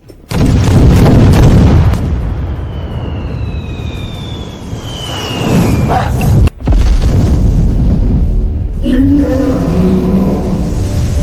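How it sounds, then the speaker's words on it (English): Artillery fire and explosions from a fantasy drama battle with a dragon: loud booming blasts and a rumbling barrage, with whistling shells streaking overhead before more impacts. "All artillery positions! Open fire!"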